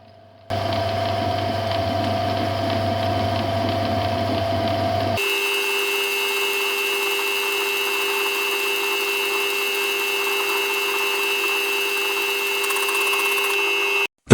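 A metal lathe turns down the outside diameter of a gear blank pressed onto a mandrel, then faces it. The machine drones steadily and loudly throughout, its pitch shifting abruptly about a third of the way in.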